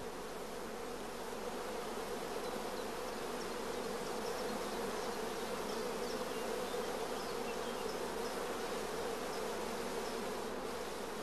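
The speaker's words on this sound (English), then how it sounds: "Bees crowding thickly around the cells is a first positive sign of good acceptance." A thick, continuous hum of honey bees crowding over the queen cells on a rearing frame, steady and close with no pauses.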